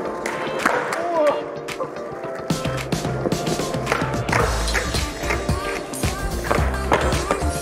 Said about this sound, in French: Ollie, kickflip, pop shove it.